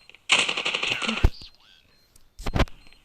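Automatic gunfire in the mobile shooter Standoff, a rapid close burst of shots, a short pause with game effects, then a second brief burst.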